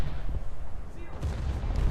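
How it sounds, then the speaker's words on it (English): Artillery barrages fire from an Italian ship in the naval battle video game War Thunder, heard as repeated low booms and thumps at moderate volume under faint background noise. "I'm gonna keep firing barrages off."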